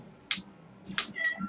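A cat meows twice in quick succession, short close and fairly loud calls with a softer trailing sound after the second.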